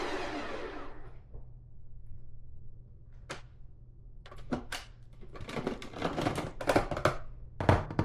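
A Ninja CREAMi ice cream maker runs its re-spin cycle on carnivore ice cream, a harsh grinding whir with clicks and knocks that grows busier and louder toward the end.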